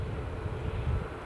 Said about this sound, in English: Mark 176 calls the next arrival a Jet2 737-800 from Turin.